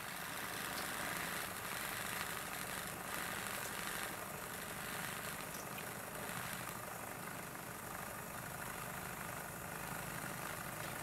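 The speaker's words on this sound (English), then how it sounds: "So you push it and it starts spinning." A Nespresso Citiz milk frother whirs steadily as it spins and froths milk, a continuous motorized hum with faint rattling vibration, close and constant throughout with no talking.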